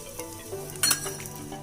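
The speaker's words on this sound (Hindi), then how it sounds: "इसको मैं फिर से भी फ्राई कर लेती हूँ" Cut pieces of kebab refried in a pan, a soft sizzle under brief clinks and scrapes of a utensil against the pan.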